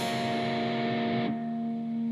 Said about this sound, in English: take your pick in an upward motion and you're going to pick your bottom 3 strings open